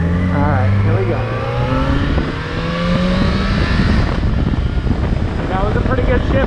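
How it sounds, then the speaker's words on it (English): A motorcycle engine revs hard and loud up close while riding around town, pitch climbing through a gear shift and then settling into a steady drone, with wind rush and a voice talking over it. "That was a pretty good shift right there."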